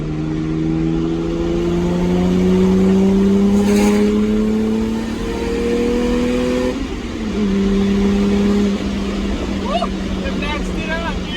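A Toyota Supra MK4 engine revs hard, its rising and falling harmonic pitch sweeping up through the gears, loud and close from inside the car with excited voices talking over it.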